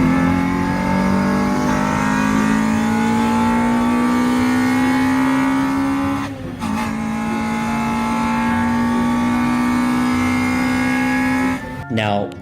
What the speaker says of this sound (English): once you got into VTEC, the car screamed